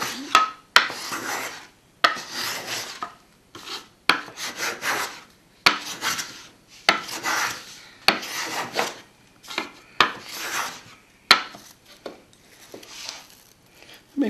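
Reese hand plane shaving a piece of walnut, repeated rasping strokes in a steady rhythm, each a close, crisp scrape separated by short pauses.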